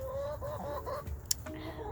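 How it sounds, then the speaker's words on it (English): Chickens cluck softly inside a backyard coop, low throaty murmurs with a brief sharp squawk partway through, fairly quiet and close. "Chickens."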